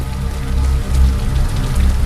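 Steady heavy rain falls in the horror video game The Light Keeper, a dense, even hiss with a strong low rumble, loud and continuous with no talking.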